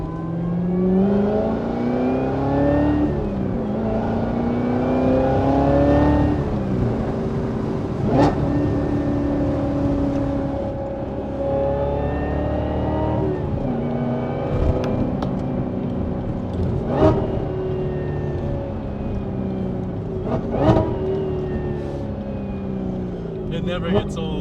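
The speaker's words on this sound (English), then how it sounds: "Those downshifts sound beautiful." A Corvette C7 Z06 with a supercharger runs through downshifts, its engine note sliding up and down in a series of revving sweeps with a high whine layered on top, loud and close throughout.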